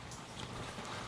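Steady rain falls outdoors, a dense, even hiss of drops that runs unbroken and fairly quiet throughout, with no voices.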